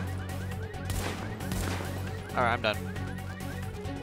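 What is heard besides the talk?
chicken clucking in the video game The Division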